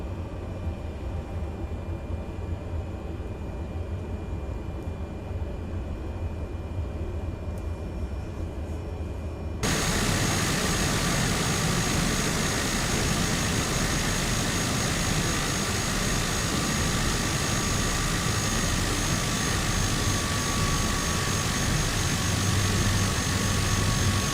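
Cessna Caravan taxiing in Microsoft Flight Simulator, a steady turboprop engine drone that jumps abruptly louder and brighter partway through and then holds a continuous roar with no talking.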